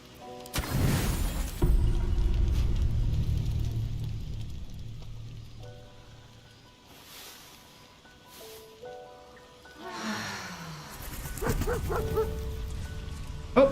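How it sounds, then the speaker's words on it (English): A dog in the Baldur's Gate 3 game barks a few times amid a steady rain-like ambient wash, fairly quiet and set back in the mix, with no talking. "Oh, the dog showed up."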